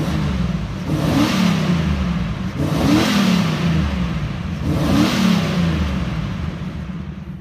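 A 1988 Cadillac Allante engine revs up three times in a row, each rise swelling loud and close before easing back to a rumbling idle.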